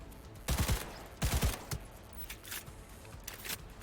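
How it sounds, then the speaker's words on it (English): Short bursts of rapid gunfire in the Cyberpunk video game, two main volleys of several quick shots followed by fainter scattered shots, as the player comes under fire from a distance. "What is shooting me?"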